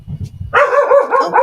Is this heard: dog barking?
yes